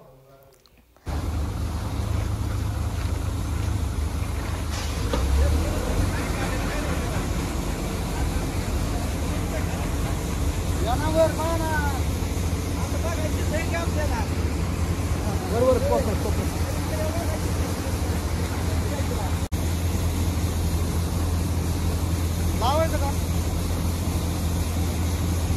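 A tractor-driven threshing machine separates pearl millet on a farm, giving a steady, loud mechanical drone that starts abruptly and runs continuously, with voices talking intermittently over it.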